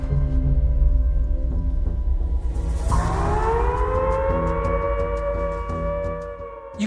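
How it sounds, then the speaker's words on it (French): A wartime prison camp siren wails loudly and steadily. Midway its pitch rises and holds in a long sustained howl, and the sound then eases slightly toward the end. "Au moment de son évasion, une sirène a retenti dans le camp."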